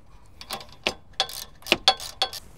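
A ratchet tightens the half-inch nuts on a light bar mount, giving a few short separate clicking bursts close by with no talk.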